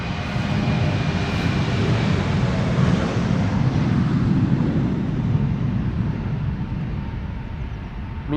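The engines of an 18-year-old Brittish Airways CityFlyer Embraer 190 long range, built in 2007, roar in a loud, continuous broadband rumble during departure at Amsterdam Schiphol Airport, with wind buffeting the microphone.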